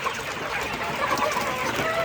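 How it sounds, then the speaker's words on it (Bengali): Chickens in a poultry farm shed, a dense flock of home-raised hens, clucking and squawking continuously, moderately loud and close, with no talk over them. "এগুলো হচ্ছে আমাদের বাসায়কৃত মুরগি, আর মোরগগুলো আছে অন্য পাশে"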